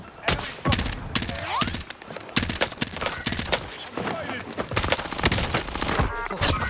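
Rapid gunfire in Call of Duty Warzone, dense bursts of automatic shots and crackling fusillades close and loud, with excited player voices talking over the fighting.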